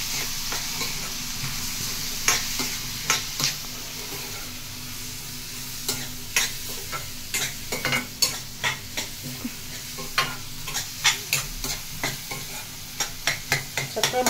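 Cucumber and mutton curry simmering in a pot, with a steady soft sizzle under repeated close scrapes and clacks of a spoon stirring the pan, in bursts that grow busier toward the end.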